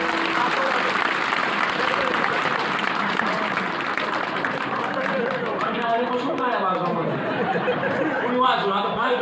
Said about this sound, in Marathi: म्हणून टाळी वाजवली पाहिजे.